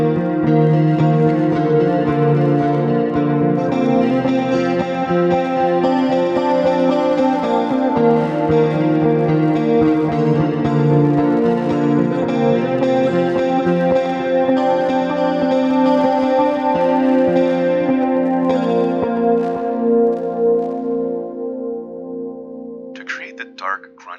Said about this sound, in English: here's a melodic 80s pop style sound I stumbled upon using Obscura delay, X-Vibe chorus, and Afterlife reverb